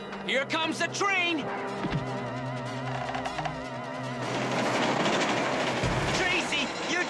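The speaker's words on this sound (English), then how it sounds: "Here comes the train!" A cartoon train rumbles closer, its rattling wheels and clatter building and growing louder over the second half, after excited voices and cartoonish sound effects.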